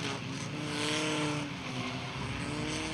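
Banger racing cars speed around the Bovingdon Raceway oval with engines droning and surging at a distance, a faint, washy roar without clear talk.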